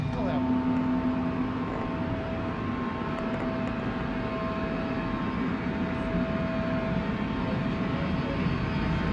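Inside a King Air airplane, the engines produce a steady, loud, droning roar as power comes up for takeoff. Speech sounds over the constant engine noise.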